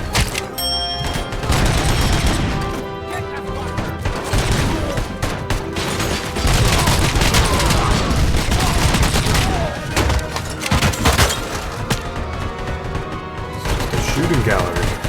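Rapid bursts of gunfire and heavy impacts fill a shootout in the video game Robocop Rogue City, loud and nearly continuous with brief pauses.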